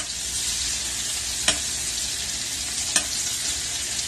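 Ahi tuna sears in a hot pan as butter is spooned over it, a steady dense sizzle holding level throughout, with two brief sharp clicks of the spoon against the pan.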